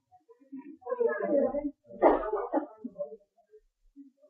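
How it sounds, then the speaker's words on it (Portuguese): A female dog whimpers and lets out short barks in a series of uneven bursts through the middle of the clip, fairly close and moderately loud, with quieter stretches at the start and end. "A minha cachorra não está feliz."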